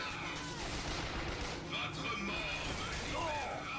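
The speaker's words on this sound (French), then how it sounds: "Qui me tire dessus ?" Gunfire aimed at the player in BioShock Infinite, a steady, fairly quiet crackle of shots and impacts lasting a few seconds, with a voice speaking over it.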